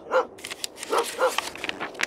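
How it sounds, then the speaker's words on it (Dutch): A dog barks in a children's read-aloud story, giving three or four short, mid-distance yaps spaced a fraction of a second apart, with no talk over them. "De hond komt blaffend op Dikkie Dik afgerend."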